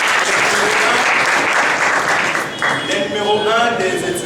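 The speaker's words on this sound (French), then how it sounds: "sous vos acclamations bien sûr" An audience at a university faculty visit applauds and cheers the student coordinators, a steady roar of clapping, with voices rising over it toward the end.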